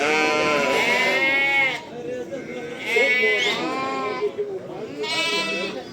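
Loud, nearby bleating from a flock of sheep and lambs at a livestock bazaar in Ganja, Azerbaijan, comes in long wavering cries one after another, with murmured human voices underneath.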